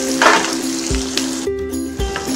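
Jackfruit Manchurian being tossed and stirred in a hot pan, a loud steady sizzle broken by several sharp clanks and scrapes of the spatula against the metal, close up with no talking.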